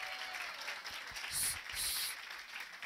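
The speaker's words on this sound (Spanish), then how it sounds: "Así que fuerte el aplauso para los dos." Audience applause at the closing plenary of an academic symposium, a soft, distant patter of clapping with a couple of brief louder swells, heard from across the hall.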